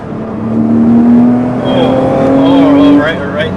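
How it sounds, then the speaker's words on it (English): A used Porsche accelerating hard, its exhaust note rising in steady pitch with a sustained rev as it pulls through gears, heard loudly from inside the car with someone talking over it. "The rimless exhaust sounds definitely very good."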